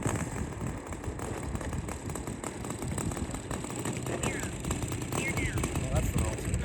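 A Saito FG90R3 four-stroke engine on a large 126-inch RC Westland Lysander model plane, running at a low, rough idle close by as the throttle is cut, with a person talking over it.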